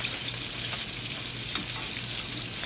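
Homemade meatballs frying in a pan, a dense continuous sizzle with soft crackles and a low steady hum beneath, close and fairly loud, no talking.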